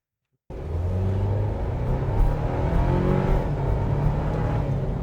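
A 2025 Toyota 4Runner SR5 three-row SUV accelerates hard from a standstill, its engine note starting abruptly and then holding a loud, steady rising drone with no talking.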